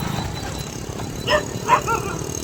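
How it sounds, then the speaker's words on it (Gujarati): A couple of dogs bark briefly at moderate distance during rain, two or three short yaps rising over a steady wet, rumbling outdoor background. "હા કૂતરા આવી ગયા હો"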